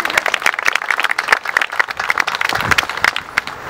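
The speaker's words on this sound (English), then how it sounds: "Let's hear applause." Outdoor crowd applause at the Alum Creek Trail groundbreaking in Columbus, Ohio: dense, crackling clapping from many hands, lively and sustained throughout at a moderate distance.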